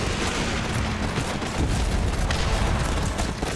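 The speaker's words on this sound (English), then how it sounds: "Oh, I destroyed a wall, I think." A wall crumbles under fire in the video game Guns Up!, a sustained roar of booming impacts and crackling debris that fills the whole stretch at steady loudness.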